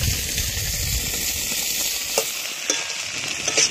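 Shrimp and onion fry in a pan with a continuous close sizzle, broken by a few sharp clinks and stirring scrapes toward the end, no talking.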